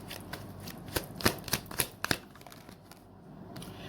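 Tarot cards being shuffled close up, a quick series of crisp riffling snaps and slaps that fades into quiet toward the end.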